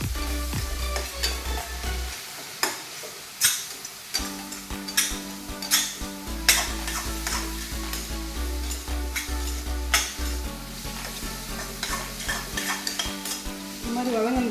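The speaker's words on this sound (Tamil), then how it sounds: "நல்லா எண்ணெயிலே ஆயிலே நல்லா ஃப்ரை பண்ணிக்கலாம்" Masala for vada curry frying in oil in a pan, with a steady close sizzle broken by repeated scraping and knocking of a spoon as it is stirred, over a low steady hum.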